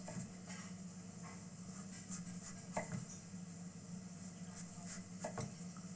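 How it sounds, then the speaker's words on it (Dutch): A knife cuts pumpkin into cubes on a board, making a series of soft, irregular chopping taps with small clicks, close and fairly quiet, with no voices. "Dan kunnen we dit allemaal in bokjes gaan snijden."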